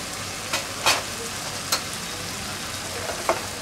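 Tomato rice seasoned with red chilli powder, garam masala and salt is mixed in a pot on the stove, a low steady sizzle broken by a few sharp spoon scrapes and clinks, close by, no talking.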